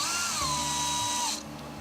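Power drill whirring steadily for over a second while mimicking the boring of small pilot holes for screws mounting a 3D printed rear guard on a Gotway Msuper electric unicycle, then winding down.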